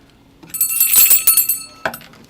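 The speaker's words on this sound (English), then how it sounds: "Could you ring a bell?" A small bell rung as a sounder for a breaking radio announcement in a station studio, a bright ringing burst with a quick second strike, close and clear, without talk.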